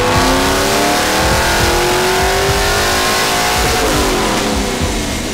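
A Chevrolet V8 in a rare Dick Harrell special edition widebody Camaro roars loudly and close, revving in rising and falling sweeps with a harsh, throaty exhaust and no talk over it.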